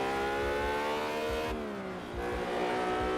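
A car engine in the Test Drive Unlimited racing game drones loudly with a strained, high-revving whine that dips briefly and then climbs again, steady and close with no talking.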